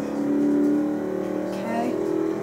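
Car engine revving and whirring through a drift in a fast racing video game, steady and fairly loud, with someone talking over it throughout.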